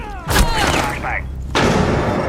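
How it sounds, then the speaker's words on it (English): A flashbang grenade goes off in Rainbow Six Siege, a sharp, close bang followed moments later by a second heavy impact, with voices talking over the action. "Flashbang."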